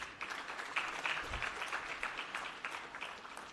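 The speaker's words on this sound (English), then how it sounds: "Can we begin with a round of applause" A convocation audience applauds in a hall, a steady faint wash of many hands clapping with no pauses.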